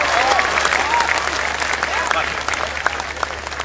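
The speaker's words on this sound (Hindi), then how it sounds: "एक बार दोनों हाथ उठा के तालियां बजाइए" Sustained audience applause after a poem recited by a former army colonel. The dense clapping fills the room, with an excited voice calling out over it.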